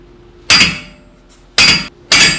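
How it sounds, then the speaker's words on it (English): A hammer strikes a punch to drive a rear axle into a Mini Cooper All4. Three sharp metallic blows ring out close and loud, the first alone and the last two in quicker succession, with quiet gaps between them. "You gotta drive the axle in. You do that with a punch and a hammer."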